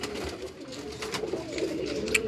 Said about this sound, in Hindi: ये भी एक फिरोजपुरी मादा है जी